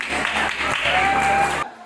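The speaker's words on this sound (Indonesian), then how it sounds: "berikan tepuk tangan untuk masing-masing paslon." Students in a school hall applaud election candidates during a classroom election exercise, a dense burst of clapping that cuts off abruptly at the end.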